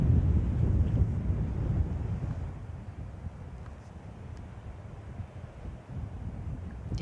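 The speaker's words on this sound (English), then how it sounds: "But the wind is really gusting" Gusting wind on a golf course at an amateur final round rumbles and buffets the microphone as a low, swelling roar that eases slightly midway.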